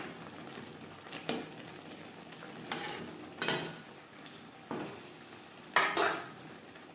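Fish pieces mixed with red chili powder for a Bengali shankar fish kosha are stirred in a pan: a faint sizzle under repeated scraping and clinking strokes of a spoon against the metal, coming every second or so.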